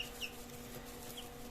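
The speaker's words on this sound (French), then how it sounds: "ça c'est une poule Pékin." Silver wheaten Pekin bantam hen giving soft clucks, a few faint short calls over a quiet background hum.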